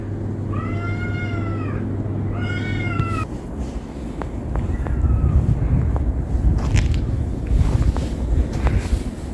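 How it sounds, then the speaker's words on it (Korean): Two drawn-out cat meows from several cats sound close together at the start, outdoors at the Janggwancheong historic site in Dongnae, Busan, then the clip turns to wind rumble and scattered faint noises. "아이고 고양이들이"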